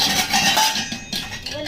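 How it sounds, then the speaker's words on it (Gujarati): A metal cooking pot is handled and water goes in, with close metallic clinks and knocks over a brief splash, fairly loud and without speech. "તો આપણે આ તપેલી લઈ લીધી પાણી નાખી દઈએ"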